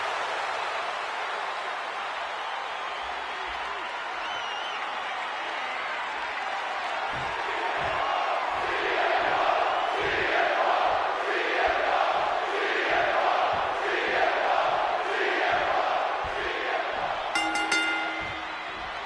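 A large arena crowd in the wrestling video game WWE 2K26 roars and cheers, swelling into rhythmic chanting with steady clapping beats partway through, loud and continuous.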